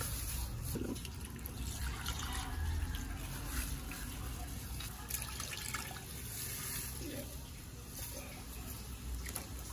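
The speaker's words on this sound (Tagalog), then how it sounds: "Ilalagay natin yung gata mahal. Lalagay na po yung gata." Coconut milk poured into a cooking pot for laing, giving a soft continuous liquid trickle with faint splashes over steady background noise, quiet and unbroken.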